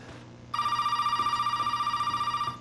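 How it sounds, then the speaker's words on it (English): A telephone rings in the game Resident Evil 7, a loud electronic trill with a rapid fluttering pulse that starts abruptly and holds for about two seconds over a quiet low hum, no voices. "And then the phone rings."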